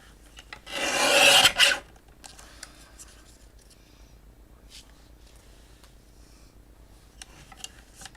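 A sheet of washi paper is cut in half, a single loud close rasping slice lasting about a second, followed by faint scattered paper rustles and handling noises.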